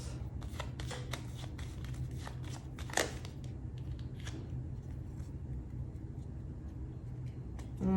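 Tarot cards are shuffled close up, a steady run of soft riffling flicks and papery snaps over a low background hum, with no talk.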